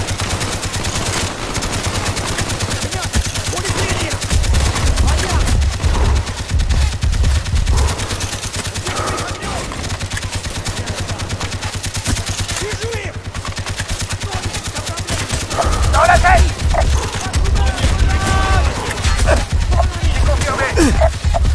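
Sustained machine-gun fire rattles through a Call of Duty Black Ops battle at a Russian base, rapid continuous bursts layered with heavy impacts and soldiers shouting throughout.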